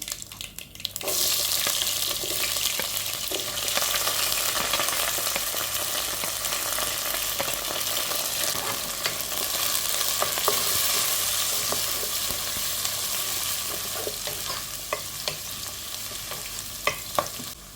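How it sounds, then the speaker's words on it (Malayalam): Mustard seeds, shallots, curry leaves and chilli frying in oil, a loud sudden sizzle as they go in that settles into a steady crackle with scattered small pops. "കടുക് പൊട്ടി വരുന്നുണ്ടെ നമ്മൾ അരിഞ്ഞു വെച്ചിരിക്കുന്ന എല്ലാം കൂട്ടി ഇട്ട് കൊടുക്കുകയാണ് കൊച്ചുള്ളിയും കറിവേപ്പിലയും അതുപോലെ തന്നെ മുളകും"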